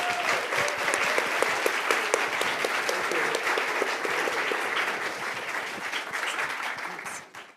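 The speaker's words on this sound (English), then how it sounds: "giving a very warm round of applause for our panelists" Warm audience applause for a panel on institutional foodservice food waste, a dense wash of clapping that holds steady and then thins out and fades near the end.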